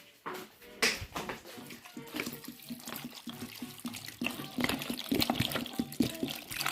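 Water pours and splashes into a container while tamarind juice is being made, in uneven bursts that grow fuller and more continuous. The sound is close and moderately loud, with a few faint clicks mixed in.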